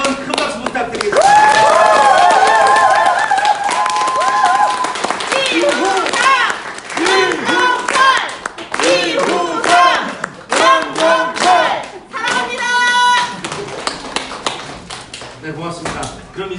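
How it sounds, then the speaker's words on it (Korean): A crowd at a political campaign office event breaks into sustained clapping and applause, and people speak loudly over and between the bursts. "다시 한번 큰 박수 부탁드리겠습니다."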